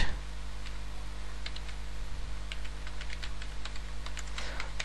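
Typing on a computer keyboard, with light, quick key clicks in uneven bursts over a steady low electrical hum, close and fairly clear with no talk.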